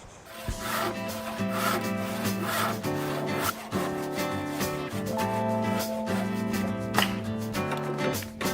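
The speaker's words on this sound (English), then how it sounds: "I'm gonna switch over to the handsaw." Handsaw cutting wood for a homemade bunk bed: close, rhythmic rasping strokes back and forth at a steady pace, each pass a harsh grinding rub, continuing without a break.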